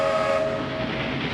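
A train rumbles past a station with a brief sustained whistle tone over the steady rolling noise of the cars, loud and close, with no talking.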